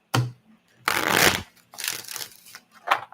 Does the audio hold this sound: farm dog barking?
no